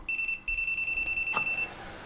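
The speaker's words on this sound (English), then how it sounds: "The beep is very loud," A WinAPEX 268B clamp multimeter sounds a loud, shrill continuous beep while detecting a live wire at a socket, broken by one brief gap near the start and then cutting off abruptly.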